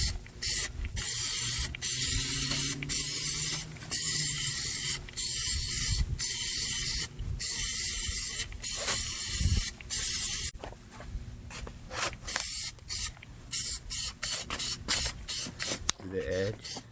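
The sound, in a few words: spraying Plasti Dip onto car rims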